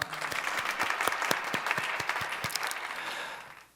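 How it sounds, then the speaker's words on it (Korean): A church congregation at a New Year dawn prayer service bursts into applause, steady clapping from many hands with a few sharper claps standing out, sustained for several seconds before tapering off. "우리 주님께 영광의 박수 올려드리기 원합니다."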